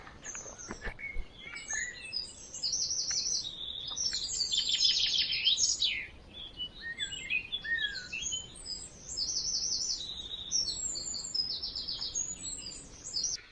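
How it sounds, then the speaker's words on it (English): A blackbird sings in clear, fluting phrases with short pauses between them, fairly close, over a quiet Essex countryside background far from the road, with no talking. "I think that one's a blackbird."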